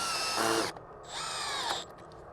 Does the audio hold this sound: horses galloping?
no